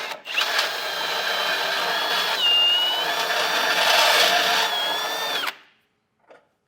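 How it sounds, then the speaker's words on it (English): A 1/2-inch drill bit runs through a hole in the metal frame of a 2021 Ford Escape, a loud close whirring drill that rises and dips in pitch for about five seconds, then stops abruptly, followed by a brief faint clink. "you can take a grinder bit or even just a 1/2-inch drill bit and just run it through"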